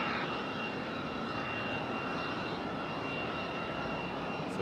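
Frontier Airlines jet arriving at Raleigh-Durham airport, a steady, loud broadband engine roar that holds level throughout with no talk.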